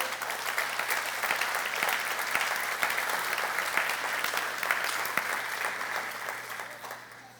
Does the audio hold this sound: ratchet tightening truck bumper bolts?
no